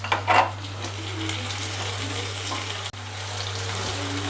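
Chopped tomato tipped into onions frying until light reddish for a dhaba-style mutton keema, a short burst of hissing on contact that settles into a steady low sizzle, with a constant hum underneath.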